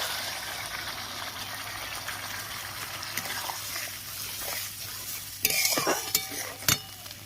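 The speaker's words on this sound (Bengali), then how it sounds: "ভালো করে মশলাটা কষিয়ে নেব টক দই দিয়ে দিচ্ছি" Spice paste cooks with sour yogurt in a pan for Bengali dhokar dalna, giving a steady close sizzle with scraping stir strokes, then a few sharper clanks and splashes near the end. No one speaks.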